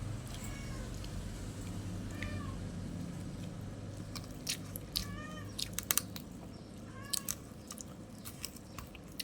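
A cat meows, drawn by the smell of fish, with a few rising meows over a steady low household hum and scattered small clicks and taps.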